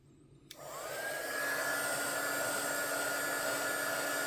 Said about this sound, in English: just smooth it out with the heat.